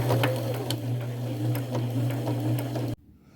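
A sewing machine runs a straight stitch with pink thread, attaching lace and chenille to an old robe, a close, steady whirring hum with rapid ticking needle strokes that cuts off abruptly near the end.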